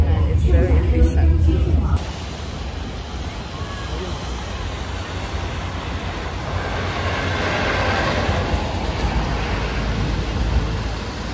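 Inside a Shanghai train station, a train rumbles and clatters steadily close by amid crowd babble, with a high whine running through and voices talking underneath.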